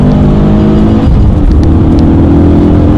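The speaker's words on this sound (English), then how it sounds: "It's a big family sedan that we're cruising around" A big family sedan driven hard on a Targa NZ tarmac rally stage in 2012. Its engine gives a loud, close, continuous roar that holds a steady strained drone throughout, with no talking.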